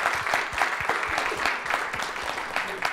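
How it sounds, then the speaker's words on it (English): Audience applause for the speaker at an engineering outreach talk on drones in construction, a steady room full of clapping hands, moderately close and without voices. "let's give another round of applause to our speaker for today"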